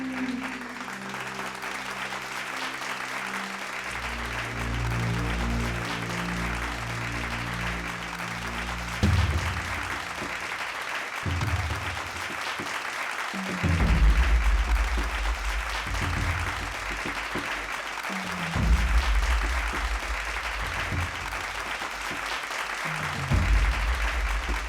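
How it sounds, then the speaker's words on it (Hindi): An audience breaks into loud, sustained applause at a singing contest on a devotional drama stage, the clapping swelling and easing in waves over a low, steady musical drone. "तालियां।"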